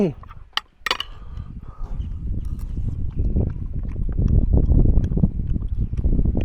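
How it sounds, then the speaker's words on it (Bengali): Wind rushes and buffets a microphone outdoors in Purulia, a steady low roar building over several seconds, with a few sharp knocks early on. "দারুণ হাওয়া দিচ্ছে কিন্তু"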